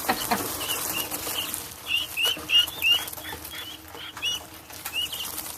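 Guineafowl scattering in a garden give repeated sharp chirping calls and bursts of wing flapping, several birds close by in an uneven flurry over a few seconds.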